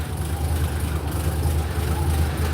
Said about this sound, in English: I just wanted you guys to hear, at least get an idea of what the engine sounds like.